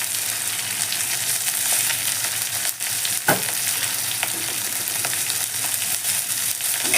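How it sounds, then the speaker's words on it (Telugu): Gongura dal with chili and salt being stirred as it cooks, a continuous loud sizzle and frying hiss with a few scraping stir strokes and no speaking. "మంచిగా వేసేసి కలిపేస్తున్నాం"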